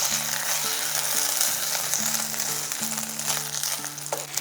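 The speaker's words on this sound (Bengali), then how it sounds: "চালটা হালকা আঁচে ধীরে ধীরে ভেজে নেব" Rice fries slowly on low heat for an orange pulao, a steady dense sizzle held close throughout, with soft music playing underneath.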